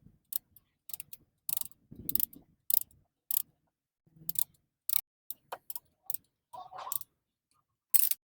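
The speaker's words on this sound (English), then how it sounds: "I can compress the piston a little bit more so it fits over the new thickness of the brake pads and the rotor" Ratcheting clicks from compressing the front brake caliper piston on a Mazda 3 during a pad change: sharp, evenly spaced metallic ticks in a steady series, close and fairly loud, with brief rustling between them and no talk.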